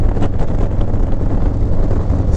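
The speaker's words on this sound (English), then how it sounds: "It's so damn windy." Strong gusty wind roars steadily across the microphone during a motorcycle ride on a blustery day with trees swaying, a dense, loud, continuous rumble with no pauses.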